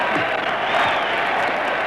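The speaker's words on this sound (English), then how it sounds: "The crowd goes wild" A boxing crowd at a Jack Dempsey fight roars with cheers and applause, a dense, loud wash of voices and clapping filling the arena throughout.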